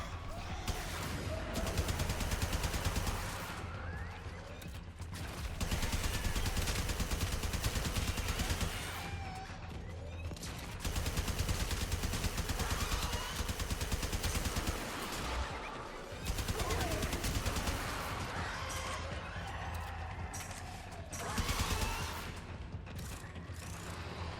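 The Fulmin weapon firing in Warframe, sustained bursts of rapid in-game fire in long stretches with brief pauses, loud and dense under a constant game soundtrack.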